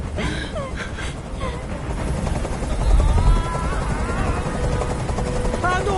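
A helicopter in Detroit: Become Human drones and thrums loudly and continuously overhead, its rotor noise filling the scene with faint voices beneath.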